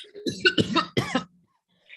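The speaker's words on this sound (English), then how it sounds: "They take a long inhale, hold it in, and then dramatically cough on it." A few harsh, explosive coughs in quick succession after a long held inhale, close and loud, followed by a short pause and a faint trailing sound.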